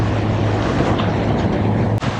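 Sailboat motoring at 1500 rpm with the genoa half out through 22–23 knot wind and waves: a steady low engine drone with broadband wash and wind noise, continuous and loud, with a brief dip near the end.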